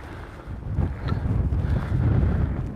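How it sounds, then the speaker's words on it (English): Wind gusts across an Icelandic lava field near a volcano, a loud low rumbling buffet against the microphone that swells and stays heavy throughout. "It's windier now"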